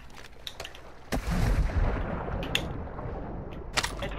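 Video game gunfire in Call of Duty: Modern Warfare II sounds as a few sharp shots, then a dense, sustained rattle of distant-sounding fire under a steady noisy backdrop.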